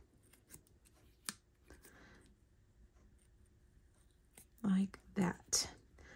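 Scissors cutting out a stamped paper image on card, small soft snips followed by a few louder crisp cuts near the end, with a quiet voice talking in between.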